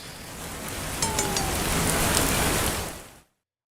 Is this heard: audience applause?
no